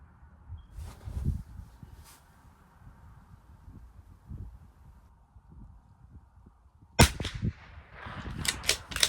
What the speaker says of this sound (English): So here we go, first shot.